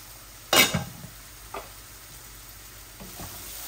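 Onion, garlic and ginger fry in a pan, a soft steady sizzle broken by a loud scrape of stirring near the start and a few fainter stirs afterward.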